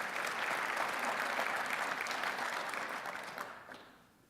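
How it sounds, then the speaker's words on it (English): Audience applause at a speaking event at the Ronald Reagan Library, dense sustained clapping from a large crowd that fades out toward the end, no voices over it. "thank you for applauding my brother"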